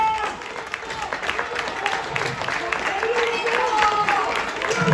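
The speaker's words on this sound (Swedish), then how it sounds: "applåder från ledare och medtävlare på arenan här hjälper till" Coaches and competitors applaud from the stands during a boys' 16 youth 800 m indoor race at the 2020 Swedish championships in Norrköping. Steady crowd clapping carries throughout, with a commentator talking over it.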